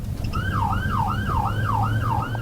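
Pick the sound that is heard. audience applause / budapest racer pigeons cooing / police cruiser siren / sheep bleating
police cruiser siren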